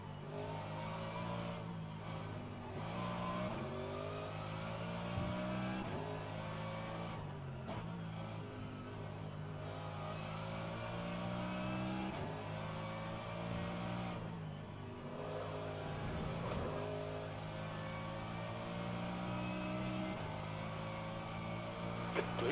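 Race car engines at Laguna Seca in rFactor 2, a continuous, droning engine note with harmonic whine that rises and drops through gear changes and corners, steady and fairly close throughout, with no talking.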